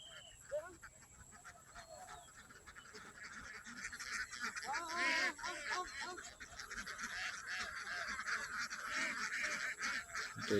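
A large flock of ducks on a river quacks and honks continuously, many overlapping calls close by, growing louder partway through.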